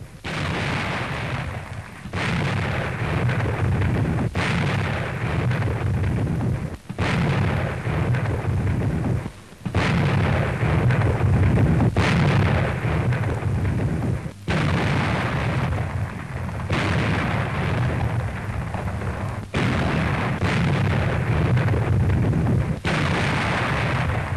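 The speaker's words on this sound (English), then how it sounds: "The fort received a severe pounding from American artillery." Heavy American artillery pounds Fort Central on the outer harbour wall at Cherbourg, a loud, continuous barrage of booming gunfire and blasts with brief gaps between salvos and no voices.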